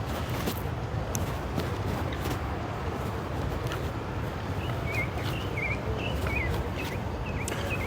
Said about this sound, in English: You can hear the birds tweeting away.